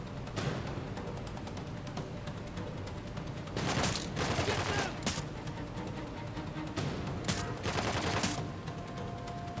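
Gunfire in the video game Uncharted 4: The Lost Legacy, with repeated shots and a few bursts of heavier automatic fire cutting through a steady background of game ambience.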